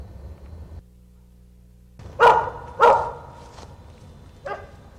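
A hunting dog barks at a squirrel it has treed in the woods: a few sharp, loud barks spaced apart, with quiet low rumbling between them.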